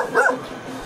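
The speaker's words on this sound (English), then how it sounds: "Oh, Mitchie's scared of the dogs up here." A single short dog bark from a guard dog in a hillside village in the Philippines, a quick mid-range yelp followed by quiet background.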